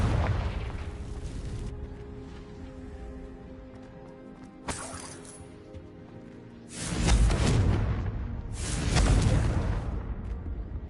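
Fiery spell blasts in a fantasy castle adventure game, with a sharp burst near the middle and two louder booming explosions in close succession, each followed by a rumbling tail over steady background music.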